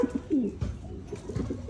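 A homing pigeon coos after flying back to its loft, several soft, low throaty coos near at hand, with light rustling behind them.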